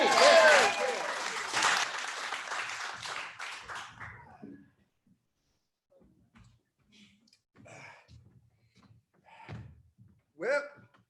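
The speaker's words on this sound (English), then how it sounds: "Can we get started with a round of applause?" A round of applause opens a small indoor gathering, a brisk burst of clapping that fades out after about four seconds, then a mostly quiet room with faint scattered shuffles and breaths.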